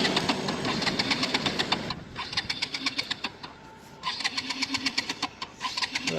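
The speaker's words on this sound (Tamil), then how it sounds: "இப்போ திருப்பியும் ஸ்டார்ட் பண்ணோம். வண்டி ஸ்டார்ட் ஆகிருச்சு" A Bajaj Pulsar RS200 BS6 motorcycle engine cranks and catches, then runs with a rapid, throaty pulsing beat up close, dipping briefly in the middle before picking up again.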